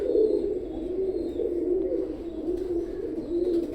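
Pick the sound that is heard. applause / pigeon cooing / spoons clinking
pigeon cooing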